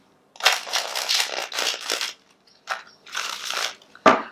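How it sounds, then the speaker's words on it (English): Several bursts of crisp tarot card shuffling, riffling in quick rustles with short pauses, ending in a sharp snap. "One last shuffle."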